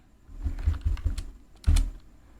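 A computer keyboard tapped to enter a copy command at a command prompt: a short run of close, crisp keystrokes in uneven rhythm, ending with one heavier final key press.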